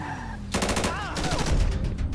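Rapid bursts of gunfire in GTA 5 during an armored vehicle robbery, loud volleys of repeated shots starting after a brief quiet lead-in and continuing in clustered rattles until the end.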